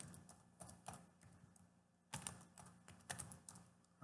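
A computer keyboard is typed on in short bursts of quiet, close clicks, with a pause in the middle before a second quick run of keystrokes.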